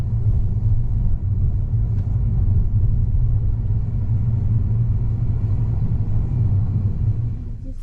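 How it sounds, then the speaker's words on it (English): A car driving into Beijing city centre, heard from inside: a steady low engine and road rumble, continuous and even, easing slightly at the very end. "I'm in the car now with a guide and a driver, and we're heading into Beijing city centre."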